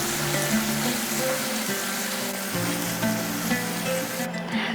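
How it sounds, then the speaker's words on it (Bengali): Tomato paste with turmeric and Kashmiri chili powder fries in a pan, giving a dense continuous sizzle with a faint low hum under it and no talking. "এরপরে আবারও মশলাটাকে কষিয়ে নেব"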